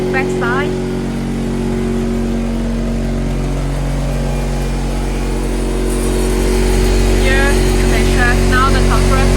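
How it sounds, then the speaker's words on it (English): The compressor of a 50L perfume-making machine drones steadily and loudly at close range for the whole clip, with a low humming tone that rises slightly toward the end. Faint voices and brief chirps sound over it. "Now the compressor is start working."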